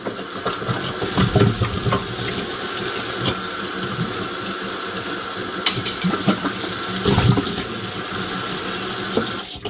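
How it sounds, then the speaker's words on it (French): Tap water running and splashing as a glass hookah vase is rinsed in a sink, a steady continuous flow with a few louder gushes, close by and without speech. "On la rince bien comme il faut, qu'il n'y ait plus de résidus de mousse."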